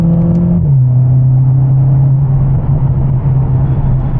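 A Mercedes CLA45s AMG engine held at high revs near the shift light, a loud steady droning roar close by with a slight pitch drop early on, alone without talk.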